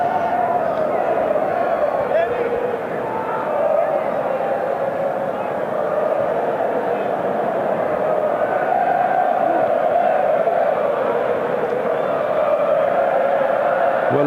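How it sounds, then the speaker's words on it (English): Rugby stadium crowd in Pretoria at a South Africa versus Wales test match, a steady, dense roar of massed voices and cheering that holds at a constant loud level throughout with no pauses. "Well, a very confident crowd."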